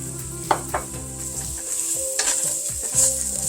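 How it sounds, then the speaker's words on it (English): Flour is stirred into browning beef for a stew, a close sizzle broken by spoon scrapes and light knocks against the pot. "Stir it in."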